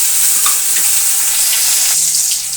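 Chopped tomatoes hit hot oil with whole spices, giving a steady, close sizzle and crackle that runs throughout with no talking.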